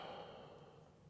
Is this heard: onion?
no